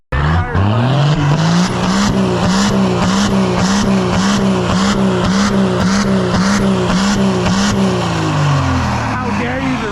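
A 1979 Ford truck does a loud, sustained burnout on big tires, its engine holding a steady high roar while the tires squeal continuously for the full length before easing slightly at the end.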